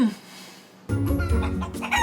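After a brief quiet moment, a chicken clucks and squawks loudly and close by for about a second.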